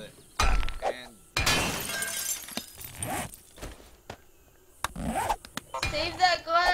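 Glass shatters several times in the 7 Days to Die video game, with sharp breaking bursts and scraping debris between them, mixed with a voice talking.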